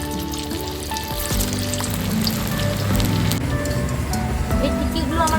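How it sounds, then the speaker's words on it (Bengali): Semolina and potato tikkis sizzling in hot oil in a pan, a dense, steady crackle with sharp pops, set against a tonal musical backing. "বাকি টিক্কিগুলো আমি একইভাবে ভেজে নেব।"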